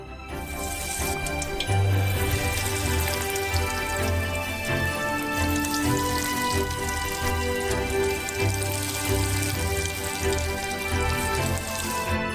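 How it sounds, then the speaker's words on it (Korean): Purée croquettes deep-fry in a pot of oil, giving a dense, continuous crackling sizzle that stays loud and steady throughout, with no talking. "그리고 이 퓨레들을 튀겨주세요."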